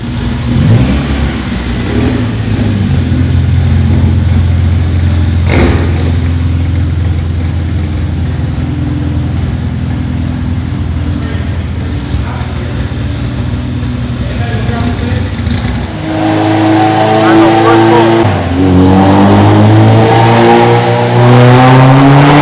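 Honda Integra with a K20Z3 engine revving hard on a dynamometer pull, a loud, close engine note climbing and dropping, then rising again, with voices over it.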